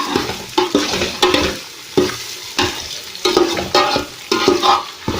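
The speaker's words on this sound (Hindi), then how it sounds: "लहसुन और अदरक का पेस्ट शामिल करके तो अच्छी तरह भून लेंगे" Garlic-ginger paste sizzling in a hot pan, with repeated stirring scrapes in an uneven rhythm, close and fairly loud.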